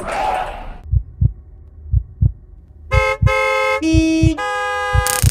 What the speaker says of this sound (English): Number four, the blowing of horns.